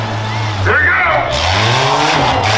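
Rough truck racing at a county fair: an engine roars and revs as the truck pounds across bumps, close and loud throughout, with a crowd and announcer talking over it.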